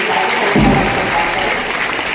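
Crowd applause at a school's annual sports inaugural ceremony, a loud, continuous wash of clapping lasting about two seconds with a low thump partway through.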